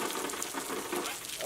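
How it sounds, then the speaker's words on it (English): Steady rain hisses broadband and constant, like heavy drops pattering on a surface nearby, with no talking. "It's raining like a mug."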